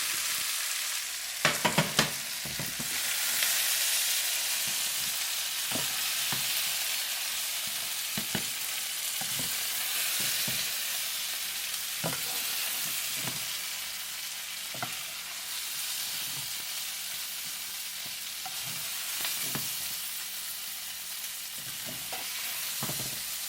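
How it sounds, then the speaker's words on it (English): Steak and potato sticks stir-fry in a pan with a steady broadband sizzle throughout, punctuated by repeated sharp clicks and scrapes of a utensil against the pan. "this is potato stick stir fry"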